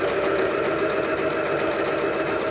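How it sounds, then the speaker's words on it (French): A sewing machine runs steadily for the whole stretch, stitching a tight zigzag on recycled fabric with a continuous, fast mechanical whir close to the mic. No one speaks. "Et la machine, elle va faire un point zigzag."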